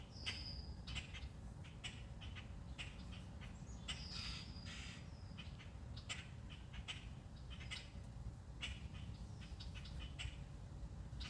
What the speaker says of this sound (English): there are a few agitated blackbirds coming in. Do you hear them?